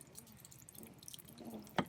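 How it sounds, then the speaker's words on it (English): Rainwater running off a hammock drip line, a faint, steady trickle of drips with one sharper splash near the end, heard close and alone. "So it's a lot of water coming right off that drip line."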